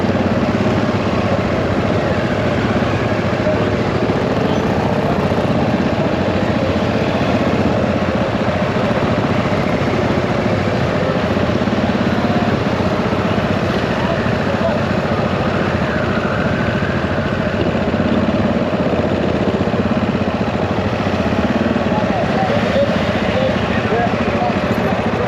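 An off-road motorcycle engine idles in a steady, unbroken drone that runs throughout, with voices talking over it.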